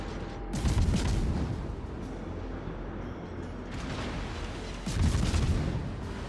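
Naval gunfire from the battleship Montana in a video game: two heavy booming salvos a few seconds apart over a low, rumbling background.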